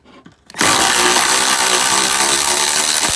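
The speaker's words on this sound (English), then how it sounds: "Alright, I got a fresh battery for my ratchet." Cordless battery-powered ratchet running steadily and loudly for about two and a half seconds after a brief quiet start, working on the rear sway bar of a Mini Cooper S R56.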